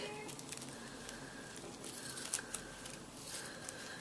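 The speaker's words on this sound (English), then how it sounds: "my cloth scissors are just a little sharper, so this is not going to be quite as annoying" Soft snipping of sharp cloth scissors cutting dress fabric, faint and close, with small crisp cuts spread across a quiet background.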